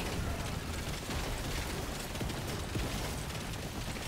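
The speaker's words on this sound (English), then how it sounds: "The rockets are hitting pretty hard considering how many of them there are." Homing rockets exploding in Deep Rock Galactic: Survivor on Hazard 5, a dense, continuous wash of blasts and crackling bursts layered over busy game noise, loud and steady with no clear gaps.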